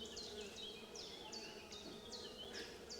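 Honeybees buzz low and steady around an open Mini Plus hive, a soft hum lying beneath a series of repeated high, swooping bird chirps.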